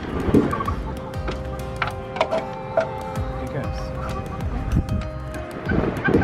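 Male tom turkey gobbling in a coop with a hen nearby, several sharp rattling gobbles and clucks close to the microphone over light wind noise.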